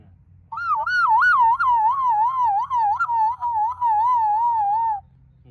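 A voice imitates a police car siren, a loud wailing tone that warbles up and down continuously for about four and a half seconds before stopping, heard alone.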